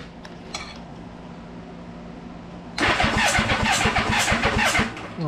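A 1984 Honda Goldwing motorcycle engine cranked from a momentary starter button, with faint clicks first, then a loud, close, rhythmic churning of the starter that runs for about two seconds and then stops.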